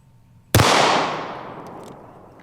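A single loud, sharp shot from a SIG P365 pistol cracks out at close range, followed by a long ringing decay that fades over about two seconds.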